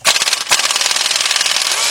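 A 1/2-inch drive impact gun on a wobble extension rattles a bolt loose during timing chain work on a GM V6 engine, one short burst and then a steady close, loud hammering.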